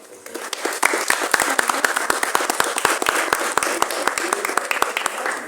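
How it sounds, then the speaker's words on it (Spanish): An audience at a Paraguayan poets' day literary gathering applauds steadily, with many sharp overlapping claps in an even rhythm lasting several seconds. "quienes pedimos un fuerte aplauso"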